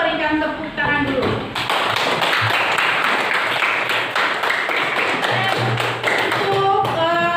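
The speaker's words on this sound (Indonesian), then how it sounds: "Coba berikan tepuk tangan dulu" A class of students claps steadily for several seconds in a classroom, the applause mixed with scattered voices.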